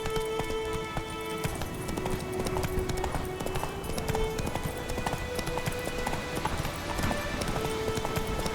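Horse hooves from The Witcher 3 pound in a steady galloping clip-clop throughout, moderately loud and continuous beneath a sustained musical score.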